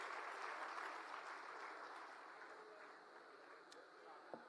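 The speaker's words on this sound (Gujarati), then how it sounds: "જોરદાર તાળીઓથી ગોપાલ રાયજીને વધાવીએ." Audience applause for Gopal Rai, an Aam Aadmi Party leader, at a political rally in Gujarat: a steady wash of many hands clapping at a distance, easing slightly toward the end.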